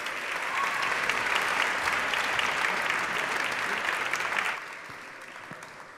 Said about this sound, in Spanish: Más fuerte el aplauso.